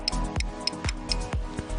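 Relay on a motorcycle being wired with anti-theft, engine kill and hazard light switches clicks as the primary light switch is turned on and off, giving several sharp, close clicks about half a second apart.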